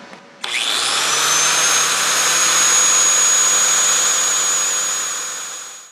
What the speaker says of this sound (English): here comes the grinder